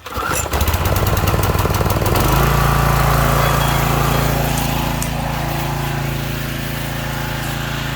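A Briggs and Stratton pressure washer engine starts with a rough clattering crank, then settles into a loud, steady, droning run that holds for several seconds.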